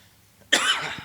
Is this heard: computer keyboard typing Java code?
no